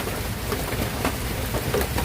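Steady rain falls close by, a dense, even hiss of drops on surfaces that goes on without a break, and no voices are heard.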